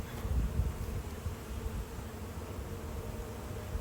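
Honeybees buzzing around an open hive during a spring inspection, a steady low drone of many wings close by and fairly quiet, with a brief louder swell near the start and no talking.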